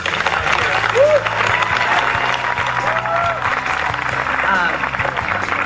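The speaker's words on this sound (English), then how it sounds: "just a big round of applause for the team today" A crowd claps in a dense, steady round of applause that carries on throughout, with a few scattered whoops rising above it.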